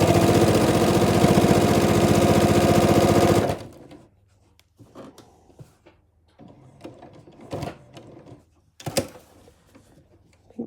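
A sewing machine stitches a machine-pieced improv quilt coverlet in one loud, steady run that cuts off abruptly partway through. Quiet handling noises and a few sharp clicks follow.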